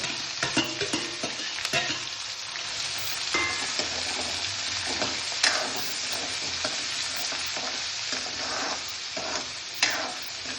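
Whole spices and onions fry in a pan with a steady loud sizzle, broken by repeated stirring scrapes and a few sharper clinks; no one speaks.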